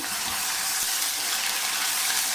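Ginger, garlic and coriander paste sautés in hot oil in a pan, giving a steady, loud, hissing sizzle that runs unbroken from start to finish with no talking.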